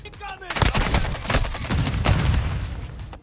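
An explosive-tip crossbow bolt detonates in Call of Duty: Modern Warfare 2, a loud, booming blast with crackling gunfire-like bursts that fill the short stretch up close.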